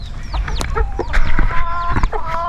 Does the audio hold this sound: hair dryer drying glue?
no